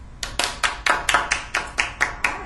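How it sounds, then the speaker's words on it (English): Ten sharp hand claps from a group of students in a classroom, evenly spaced and steady in rhythm, fairly close and clear with no talking over them. "give us your clap."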